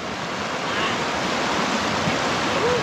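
A strong river current on the Dapya River in Cabangan, Zambales, a loud, continuous broadband rush of flowing water with no clear breaks, close to the microphone.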